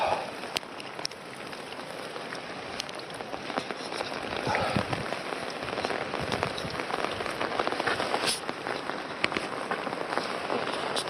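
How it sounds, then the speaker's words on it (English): Steady rain falls outdoors in Wales, a continuous soft patter with scattered sharper drips and taps close by, holding at moderate loudness throughout with no talk. "It'd be good if it stopped raining, but it's not going to."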